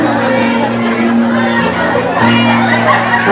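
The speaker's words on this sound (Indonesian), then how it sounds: "Tepuk tangan yang meriah" Audience at an IPNU & IPPNU anniversary celebration at an Islamic school in Kotagajah cheering and shouting, a loud, dense crowd roar with young voices whooping throughout, applause buried in the noise.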